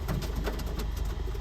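Pigeons cooing on a car roof, soft repeated low coos in a quick rhythm, close by and steady through the short moment.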